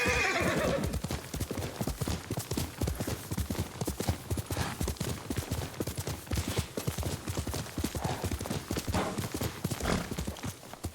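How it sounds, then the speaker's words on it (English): Horse hooves clop in a steady rhythm, close and continuous, with a short whinny near the start, as a horse is ridden through forest in the video game Ghost of Tsushima. "you can hear the horse breathing"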